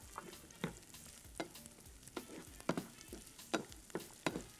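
Carrots sizzle in a pan of onions, a steady fry with a spatula stirring and scraping at a regular beat, close and fairly quiet with no voices.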